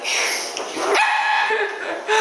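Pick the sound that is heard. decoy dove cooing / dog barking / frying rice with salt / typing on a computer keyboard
dog barking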